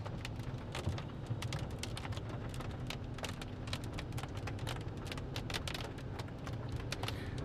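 Rain falls during a thunderstorm near Hartley, Iowa, a faint, steady patter of drops striking a nearby surface, with irregular sharper ticks scattered over a low continuous hiss.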